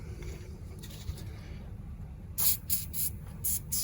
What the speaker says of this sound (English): But I'm gonna go ahead and give it another spray.